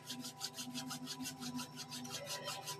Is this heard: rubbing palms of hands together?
yes